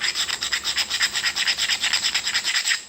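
A stone abrader rubbed briskly back and forth along the edge of a flintknapped slab, making a rapid, even series of close, gritty scraping strokes, around eight per second, with no voice.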